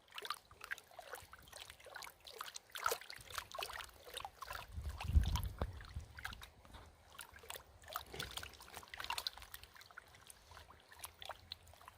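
Gold pan swirling water and gravel on a mineral claim, with steady splashing and trickling water and gritty scraping bursts, loudest about midway, heard alone.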